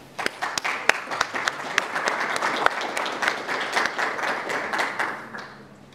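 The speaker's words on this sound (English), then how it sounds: "A round of applause for our brother Samir" Applause for brother Samir after a recitation, a room of people clapping in a lively, uneven patter with distinct sharp claps, steady and fairly close before tapering off at the end.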